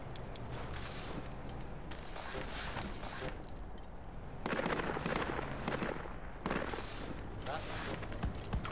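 Rapid bursts of heavy automatic APC gunfire in the video game Project Reality 2 crackle over a busy, noisy backdrop, growing louder and denser in the second half.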